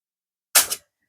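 An AR-15 rifle dry fires on a snap cap, giving one sharp, close metallic snap in otherwise silent surroundings.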